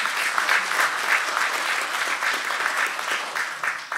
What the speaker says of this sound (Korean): 뜨거운 박수 좀 부탁드리겠습니다